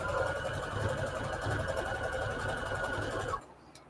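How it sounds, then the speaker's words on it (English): A sewing machine stitches fabric for a junk journal cover, giving a steady close mechanical whirr with a rapid pulsing rhythm for over three seconds before it stops abruptly. "this pin's going to mess up my sewing machine"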